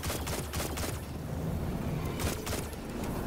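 Gunfire in the video game Destiny 2, a dense, loud stream of repeated shots with sharp bursts throughout.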